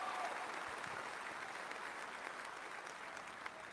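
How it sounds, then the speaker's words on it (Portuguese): A large audience at a political rally applauds in a dense, sustained roar of clapping that holds at an even level throughout, with a faint voice underneath. "O público aplaude."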